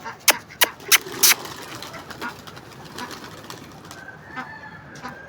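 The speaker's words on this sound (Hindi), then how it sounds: "केज बनवाने का बड़ा मकसद था हमारा कि हमारे सारे कबूतर ऊपर बैठ के मस्तियाँ किया करें" Several sharp wing flaps and clatters near the start, then soft cooing and rustling from pigeons in a rooftop cage over a steady outdoor hiss.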